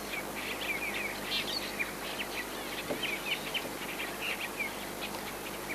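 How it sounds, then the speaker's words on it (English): Glossy starlings chatter in a busy feeding gathering, with many overlapping chirps and whistles at moderate distance over a faint outdoor background. "These are Glossy-starlings we're looking at the moment."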